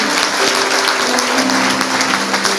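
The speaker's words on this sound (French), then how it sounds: "Quelqu'un acclame le Seigneur." A church congregation at an evangelical gathering in Paris bursts into loud, sustained applause, dense clapping filling the room with crowd noise throughout.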